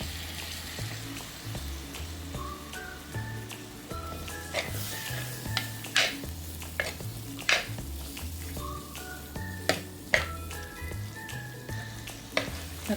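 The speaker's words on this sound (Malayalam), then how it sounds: "ഈ സമയത്ത് നമുക്ക് അരിഞ്ഞ് വെച്ചിരുന്ന തക്കാളി ഇങ്ങോട്ട് ഇട്ട് കൊടുക്കാം." Chopped tomato goes into browned spices for beetroot rasam, setting off a soft steady sizzle under repeated spoon scrapes and clinks against the pan, close and moderately quiet, with no voices.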